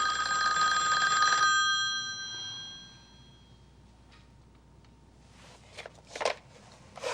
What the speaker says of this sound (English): My kingdom for a phone that only rings once.